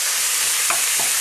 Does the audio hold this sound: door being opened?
no